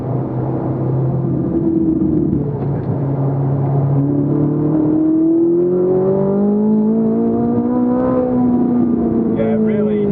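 A Ferrari 458 engine climbs toward high rpm while driving, a rising, swelling drone with sliding harmonics and a steady rumble, loud and continuous from start to finish.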